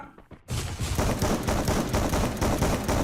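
Rapid bursts of automatic gunfire from a competitive streamer shooter game begin abruptly after a brief quiet moment, then continue as a loud, dense, crackling barrage without pause.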